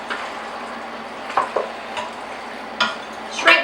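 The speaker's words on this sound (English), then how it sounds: "I'm just going to add some in, give it a stir" Pasta coated in a homemade béchamel cheese sauce being stirred in a pot, with soft wet scraping and a few sharper utensil knocks against the pan, steady and close, no talk.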